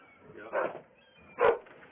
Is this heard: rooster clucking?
no